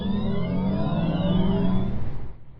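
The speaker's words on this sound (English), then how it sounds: "That's the sound of Volkswagen's ID3 all-electric vehicle." Synthetic driving sound of a Volkswagen ID3 all-electric car, a steady layered hum with rising and falling tonal sweeps, loud and continuous, cutting off near the end with no talking.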